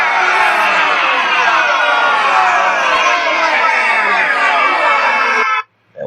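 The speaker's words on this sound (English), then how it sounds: "The crowd did not like that." A wrestling crowd roars and boos in a dense, loud wash of shouting voices that holds steady for several seconds, then cuts off abruptly.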